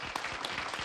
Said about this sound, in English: with a nice hand clap, will you please?